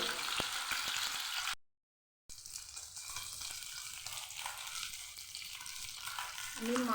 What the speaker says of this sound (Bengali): মাছগুলো উল্টে পাল্টে লাল করে ভেজে নিয়েছি